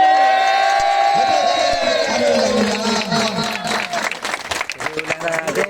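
A crowd at an award ceremony for the champion Hlaing Tharyar team breaks into loud applause with cheering and whoops, a dense clatter of clapping that swells over a background of voices.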